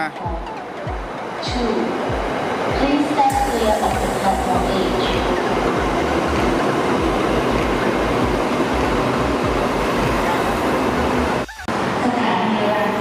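A Red Line electric train rumbles steadily as it pulls into an elevated station, a broad continuous roar with rhythmic wheel clatter, while someone talks over it.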